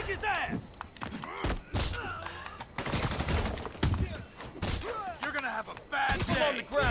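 Gunshots in a Spider-Man video game, punchy bursts of fire that punctuate a dense game soundtrack and effects, with someone talking excitedly over them.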